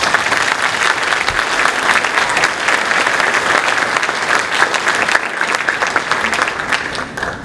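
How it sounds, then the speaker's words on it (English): Audience at a high school chorus concert applauds soloists, a loud, dense and continuous wash of clapping from a large crowd sustained throughout. "Let's give them a round of applause"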